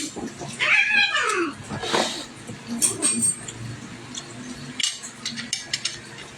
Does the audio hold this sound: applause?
no